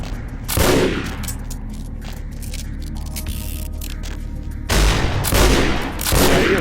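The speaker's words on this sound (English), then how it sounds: "I am going to go and shoot." Gunfire in Vampire the Masquerade Bloodlines, with bursts of loud shots at the start and again near the end, separated by a lower droning stretch.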